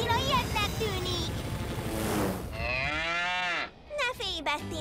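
A cartoon cow moos loudly in a long, drawn-out call amid windy animated action, with characters talking before and after it.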